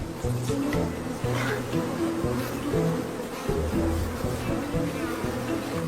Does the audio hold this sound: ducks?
no